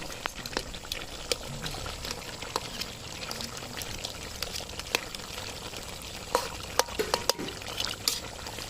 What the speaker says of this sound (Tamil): அது கொதிக்குது, நான் கையை வைக்க முடியல.